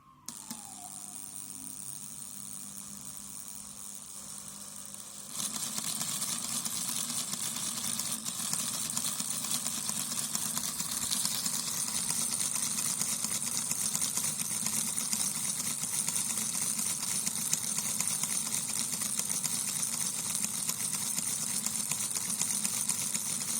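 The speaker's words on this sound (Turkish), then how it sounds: "Bu da motorumuz. 12 voltta çalışıyor." A small 12-volt electric motor drives a V6 engine model, starting with a brief click and then running as a steady, even whir with a high-pitched whine, close and constant for about eighteen seconds.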